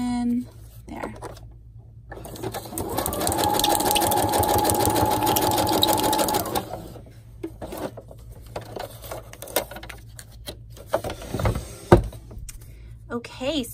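Sewing machine stitching paper ruffles with cheesecloth during a craft project, running in a steady sustained whir for a few seconds at moderate loudness, then stopping, with light handling noises and a little talk around it.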